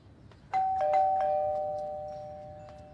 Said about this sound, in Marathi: एवढा वेळ बेल वाजते ऐकू येत नाही